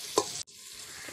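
Onions frying in a pan for biryani make a close, steady sizzle, broken by a brief scrape of stirring and a short dip before the hiss resumes.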